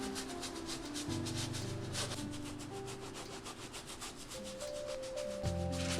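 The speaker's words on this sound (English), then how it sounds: "you'll want to scrub all of the deep scuff marks and all of the places that have a lot of dirt" A wet brush scrubs deep scuff marks and dirt off a shoe, a steady close rhythmic rubbing in rapid back-and-forth and circular strokes, with a faint tonal hum underneath.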